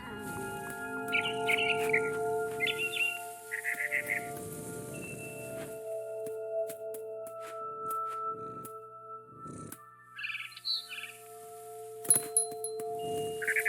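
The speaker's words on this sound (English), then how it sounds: "Then I heard chirping outside my window. It was a barn swallow going back to her nest." A barn swallow chirps in the video game What Remains of Edith Finch, with short bright bird calls in a few clusters spread over an otherwise quiet scene, alongside scattered soft thumps and a faint tone.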